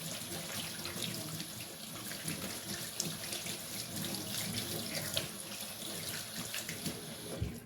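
Tap water runs steadily into a sink while a bar of coconut soap is rinsed under it, a constant close splashing hiss with no voices.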